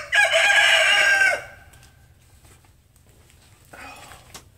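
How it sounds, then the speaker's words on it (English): A rooster crows loudly and close by for about a second, followed by quieter background sounds and a faint voice near the end. "even the rooster knows who it's from."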